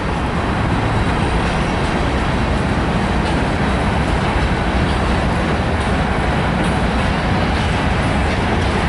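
A Union Pacific ES44AC locomotive leads a manifest freight train with an NS C40-9W trailing through downtown El Paso, Texas, giving a loud, continuous rumble and roar of passing rail cars that holds steady throughout.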